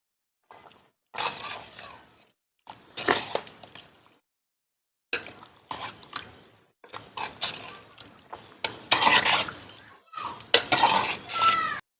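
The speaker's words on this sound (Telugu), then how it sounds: "మనం అయితే ఒకసారి కలుపుకుందామండి" Stirring chicken curry in a clay pot, with scraping and clinking bursts of utensil against earthenware coming in irregular clusters separated by short pauses, close and moderately loud.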